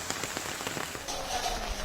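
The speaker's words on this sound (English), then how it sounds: "it has been raining non-stop in Telangana and several coastal districts of Andhra Pradesh" Heavy, non-stop rain falling in the aftermath of Cyclone Gulab across Telangana and coastal Andhra Pradesh, a dense steady patter on surfaces, close and continuous with no voices.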